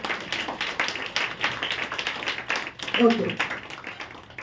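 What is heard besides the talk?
audience clapping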